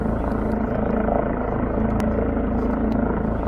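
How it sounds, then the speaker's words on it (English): A rescue helicopter in the Dolomites mountains moves away, its rotor producing a steady, moderately loud chopping whir with a low rhythmic pulse, heard at a distance and without speech. "Now the helicopter is going away."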